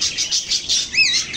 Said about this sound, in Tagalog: dumami na itong mga alaga kong ibon